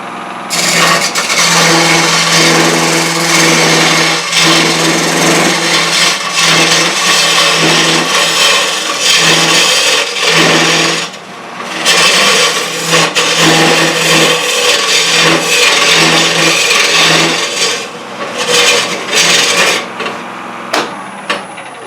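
A hollowing tool cuts into a spinning piece of wood on a wood lathe, giving a steady, dense scraping roar with a low motor hum underneath. Brief dips break it, and it stays loud and close throughout.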